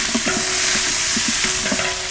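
Curry leaves hit hot oil for tempering, giving a loud continuous sizzle and crackle close up, with rhythmic scraping stirs in a pan and no talking.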